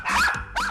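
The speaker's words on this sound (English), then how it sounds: "3 out-of-control Chihuahuas wreak havoc." Chihuahuas barking in two sharp, high yappy bursts, close and loud, with no talking.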